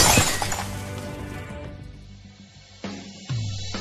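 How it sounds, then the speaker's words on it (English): Window glass shattering in an animated cartoon, one loud smash with tinkling shards that fade out, followed by brief thumps near the end. "why did you just smash through the window?"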